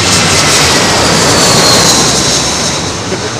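A Boeing 737 jet arriving on runway 27L at London Heathrow roars loudly and steadily, a broad continuous engine rush filling the air for the whole moment with no voices.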